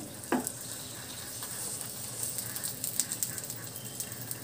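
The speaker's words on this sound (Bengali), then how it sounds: "এবার আমি সময় নিয়ে পরোটাটা ভালো মতো ভেজে নেব।" Shahi paratha flatbread frying in a pan, a constant soft sizzle with an early knock from flipping and light scattered crackles, heard close with no talk over it.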